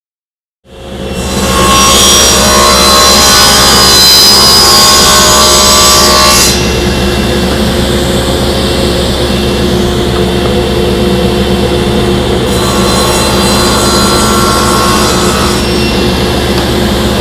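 A power saw starts abruptly and runs loud and steady while cutting a 5/16-inch groove in wood for a shaker door, with a harsher cutting whine rising and falling over the constant motor drone.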